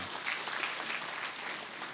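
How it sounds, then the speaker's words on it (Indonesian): Scattered applause rises from an audience at a seminar on digital transformation in the judiciary, fairly faint and distant, a brief patter of clapping with no voices over it. "Tepuk tangan untuk yang mulia"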